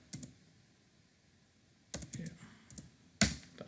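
Typing on a computer keyboard, a few short bursts of close key clicks separated by quiet pauses, with a sharper, louder tap near the end.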